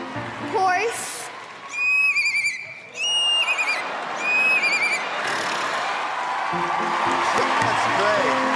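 A child imitates a horse neigh with high, wavering whinny-like cries in several bursts, with other voices and some background noise underneath.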